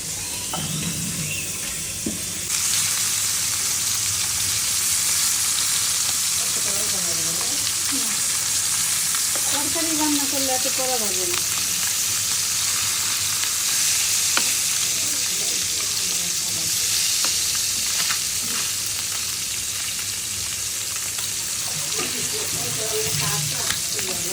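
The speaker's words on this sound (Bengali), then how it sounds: "কাঁচকলার জন্য আমরা এখানে কড়াইতে তেল দিয়ে দিলাম" Oil heats in a kadai for frying raw bananas, giving a loud, continuous sizzle close up, with stirring noises and brief faint voices in the background.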